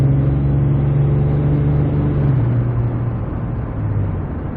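A 6.7 Cummins diesel pickup with a non-VGT turbo making a max-effort pull, a steady loud low engine drone with a slight pitch drop partway through, heard from inside the cab with no talking.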